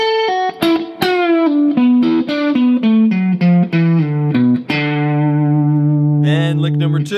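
Distorted electric guitar plays a long descending lick from a guitar solo, a run of bent, sustained notes stepping downward and ending on a long held tone, loud and close.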